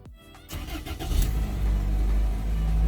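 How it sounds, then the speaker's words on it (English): A 2002 Toyota Corolla LE is started up, a few clicks and a brief cranking whir before the engine catches and settles into a steady, rising idle rumble, close and fairly loud. "Let me start her up and see if it runs."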